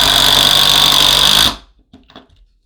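An impact driver with a driver bit drives screws in a loud, steady, rattling burst lasting about a second and a half, then cuts off, leaving only a few faint knocks afterward.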